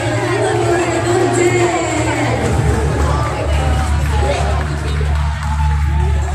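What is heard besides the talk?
audience applause and cheering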